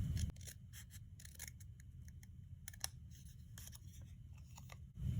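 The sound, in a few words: scissors cutting paper card stock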